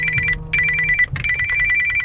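A telephone rings with an incoming call, a repeating electronic ring of short bursts that starts, breaks off briefly and resumes, loud and close, with low road or engine rumble underneath and no talk.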